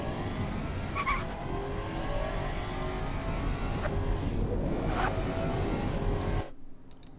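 A 2016 Athena CL9 driven hard on a race track in the Automation game, a continuous engine drone with tire noise and shifting pitch, steady and fairly loud until it cuts off abruptly near the end.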